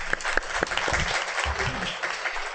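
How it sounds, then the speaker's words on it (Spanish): Audience applause at a panel discussion, a steady clatter of clapping from a seated crowd with a few sharp nearby claps standing out, lasting throughout without talk. "aprovecho estos aplausos también para darles el reconocimiento a cada una de ellas en este conversatorio"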